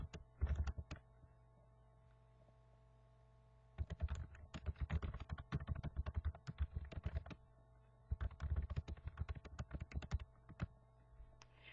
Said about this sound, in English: You're going to want to type a message in here.